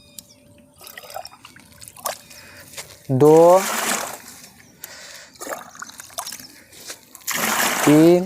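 Water is poured and splashes into a tank while mixing a spray solution for treating onion crops, a gurgling, sloshing pour in bursts with drips between, close by, while someone talks over it.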